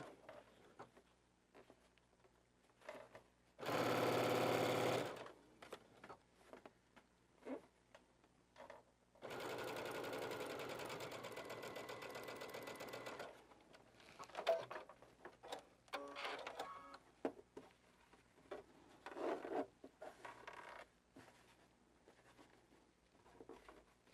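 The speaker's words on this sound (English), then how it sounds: "And with that pieced piece, it made it a little bit longer, so I'm just sewing that." A sewing machine stitches pieced quilt block fabric in two short, steady runs of rapid mechanical whirring, the first about a second long and the second longer, separated and followed by quiet handling clicks and rustles.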